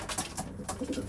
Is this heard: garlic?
no